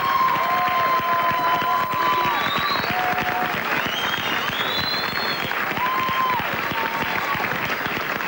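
A television studio audience gives a loud, sustained round of applause for a singer, with crowd voices and a few whistles riding over the continuous clapping.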